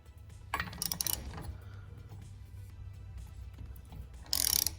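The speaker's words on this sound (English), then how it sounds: "It's actually nicking the cylinder head." A VW Golf 2.0 engine is turned by hand after a cam swap, the camshaft nicking the cylinder head with quiet mechanical clicks and a few sharp scraping bursts, close by.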